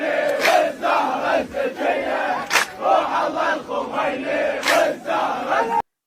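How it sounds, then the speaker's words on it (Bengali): A large street protest crowd chants slogans against America and Israel and in support of Iran, rhythmic massed voices rising and falling in repeated bursts, loud and close, ending abruptly. "বাহরাইন সহ অন্যান্য দেশের মানুষেরাও রাস্তায় নেমে এসেছে আমেরিকা ও ইসরায়েলের বিরুদ্ধে এবং ইরানের পক্ষে স্লোগান দিচ্ছে"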